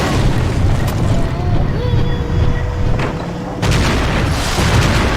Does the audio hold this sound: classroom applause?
no